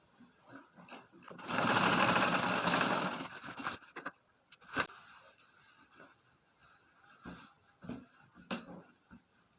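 A sewing machine sews fabric down on an iro and buba garment in one loud burst of fast stitching lasting about two seconds, followed by quieter scattered handling noises.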